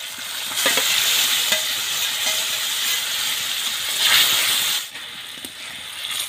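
Maida topka, small flour dumplings, go into a pan and are stirred. A steady frying hiss with scraping and light clinks carries on, then eases briefly near the end.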